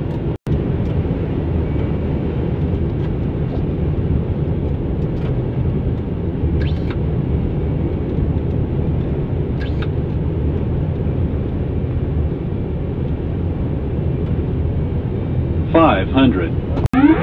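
A cargo aircraft landing at a large European cargo hub, heard from inside as a steady, heavy engine and airflow rumble, with brief automated cockpit callouts over it near the end.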